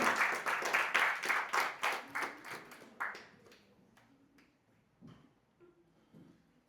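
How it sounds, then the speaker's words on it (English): An audience at a formal ceremony in the United Kingdom applauds a special guest with steady, dense clapping that fades away after about three seconds, leaving a few faint taps and quiet room noise. "Please give a round of applause for the special guest today."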